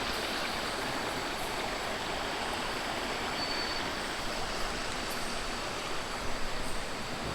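Waterfall and stream on Gunung Ledang, a dense continuous rushing of falling and flowing water, close and steady throughout with a few small splashes near the end and no voices.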